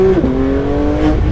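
A 2023 Porsche 992 GT3 RS engine and exhaust droning loudly from inside the car, a steady high-pitched tone that dips briefly and then holds.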